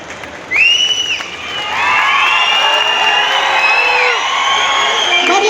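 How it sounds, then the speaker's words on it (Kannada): At a government event in Kudligi, Karnataka, welcoming the Chief Minister, a crowd bursts into sustained cheering and shouting with applause, loud and continuous after a brief quieter start. "ಜೋರಾದ ಚಪ್ಪಾಳೆ"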